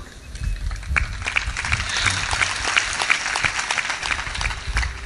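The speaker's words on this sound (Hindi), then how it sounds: "थोड़ा ताली तेज बजाया करो" An audience at a Hindi spiritual discourse claps loudly and steadily, a dense crowd patter with sharp individual claps standing out across several seconds.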